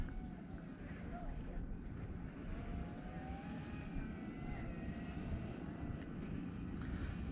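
Continuous whirring of a DJI FPV drone in flight and diving, with a steady broad rush of wind and faint shifting motor tones throughout, fairly distant and even in level.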